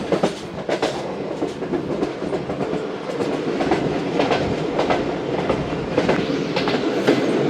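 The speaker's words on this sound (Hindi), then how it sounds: "कराची एक्सप्रेस पहुंच रही है" The Karachi Express passenger train rolling into Raiwind Junction, a continuous loud rumble with rhythmic clickety-clack wheel beats on the rail joints, close and without talk.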